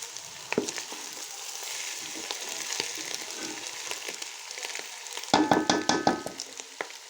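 Cooked, colorful mutanjen rice is stirred in a pot, a soft steady sizzle with scraping and rustling as the spoon moves, then a cluster of louder clinks and scrapes near the end, close and moderately quiet.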